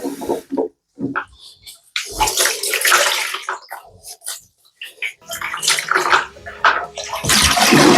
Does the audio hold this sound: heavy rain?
no